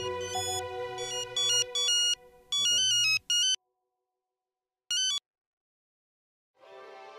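A phone ringtone plays in a domestic setting as an outgoing call connects, a clear electronic melody sounding in repeated bursts with short gaps and silence between them, ending with a brief low sound near the end.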